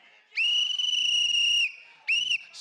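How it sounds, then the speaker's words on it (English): Loud, shrill whistles blown by protesters at a university talk: one long sustained blast, then a second shorter blast after a brief pause, with no talk over them. "From henceforward, the whistle shall be known as a symbol for the logically defeated."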